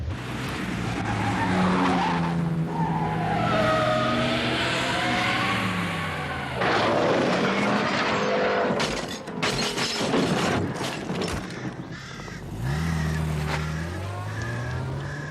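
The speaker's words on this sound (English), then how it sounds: "Some fool in a sports car just smashed into a tree." Sports car skidding with long squealing tires that bend in pitch, then a crash into a tree with a burst of impacts and shattering near the middle, followed by more engine and tire noise.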